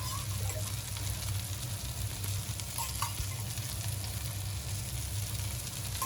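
Surmai kingfish frying in a pan with steady, dense sizzling and crackling that holds evenly throughout at close range, with no voices.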